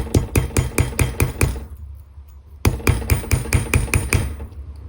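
The nylon side of a hammer taps rapidly on wire-wrapped earrings to flatten them, a close, rhythmic run of sharp knocks that pauses briefly and then resumes at the same steady pace.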